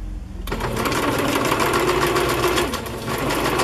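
A sewing machine stitches lace onto fabric with a steady, fast, close mechanical whir and rapid needle clatter that starts after a brief quiet moment and runs continuously.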